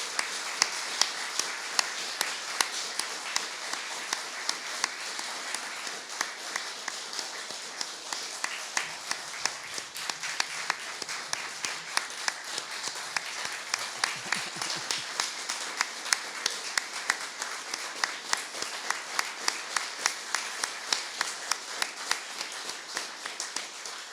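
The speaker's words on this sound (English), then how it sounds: "Please give them all a round of applause." Sustained applause from a ceremony audience honouring Order of Prince Edward Island Medal of Merit recipients at a 2024 investiture, steady dense clapping with sharp rhythmic hand claps throughout, no talk.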